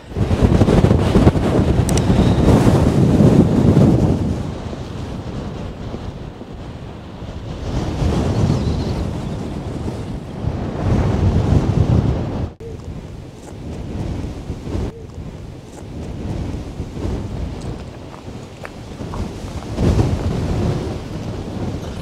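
Strong storm wind buffets the microphone in heavy, roaring gusts that surge and ease repeatedly near a volcano by the Strait of Magellan, with no voices.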